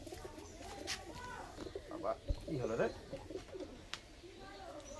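Najra Kaldum pigeons in a home loft give soft, intermittent coos and wing flutters close by, with a voice speaking briefly over them.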